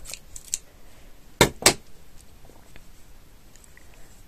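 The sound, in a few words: sharp scissors cutting macrame cord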